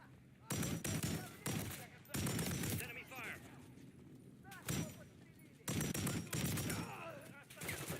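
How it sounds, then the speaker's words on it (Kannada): Enemy gunfire in Call of Duty Modern Warfare comes in loud, sharp bursts: a few short volleys, then longer sustained firing with brief quiet gaps between. Voices are heard in the pauses. "Enemy fire."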